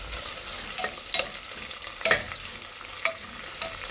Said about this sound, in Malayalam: അരിഞ്ഞിട്ട് അതൊന്ന് മൂത്ത് വരട്ടെ